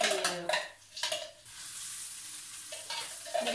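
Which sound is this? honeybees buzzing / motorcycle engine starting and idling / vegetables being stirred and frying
vegetables being stirred and frying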